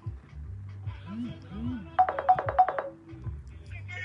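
A phone ringtone chirps in a quick burst of repeated electronic tones over about a second before the call is answered, heard close amid low room noise and voices.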